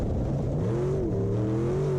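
A race car circles the Monett Motor Speedway oval, its engine note droning steadily and sweeping upward in pitch as it accelerates, heard close and continuous with no voices.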